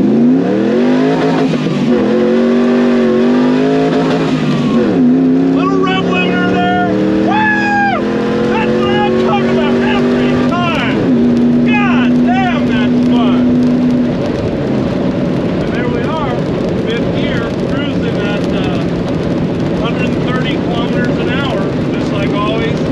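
LS-swapped Jeep CJ-7 on one-ton axles accelerates through the gears, its V8 rising in pitch and dropping at each shift through a dual 2.5-inch into single 3-inch MagnaFlow exhaust, loud and close inside the cab, with someone talking over it.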